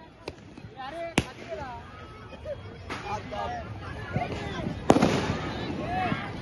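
Diwali firecrackers and a 12-shot firework pop and bang outdoors in sharp, scattered reports, a few loud cracks standing out over a crowd of voices talking and calling.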